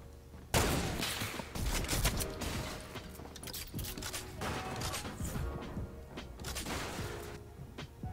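Rapid gunfire in a competitive online shooter match, dense cracking shots and mechanical clatter through an ongoing firefight, close and loud over game ambience.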